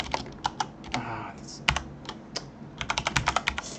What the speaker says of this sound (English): He's typing angrily.